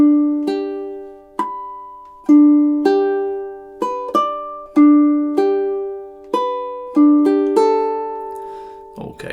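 A high-G ukulele plays the intro of a song, with clear plucked notes and chords in a steady, syncopated rhythm, each attack ringing and decaying, close and alone without talk.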